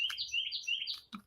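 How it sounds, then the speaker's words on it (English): A bird chirps loudly and close by in a rapid run of high, bright tweets lasting about a second, followed by a short lower note at the end. "Is this bird like really loud for you guys?"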